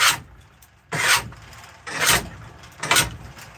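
A hand tool scrapes and rasps across a wooden spoon being shaped, in four loud, separate strokes with short pauses between them, close up and with no talk.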